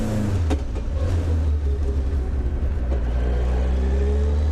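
First-generation Suzuki Hayabusa motorcycle engine droning loud and steady while accelerating through clutchless upshifts, its deep continuous rumble barely dipping at each gear change, with no talking.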